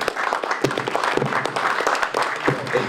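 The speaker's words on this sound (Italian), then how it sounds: "Emanuele Milasi, a cui farei un applauso" A crowd applauding steadily at a film festival award ceremony, dense overlapping claps filling the space for the whole stretch, with no pause.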